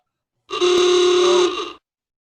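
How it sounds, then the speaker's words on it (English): A single sustained horn honk, loud and steady, lasting just over a second before cutting off. "that is the honk to get going into the next segment"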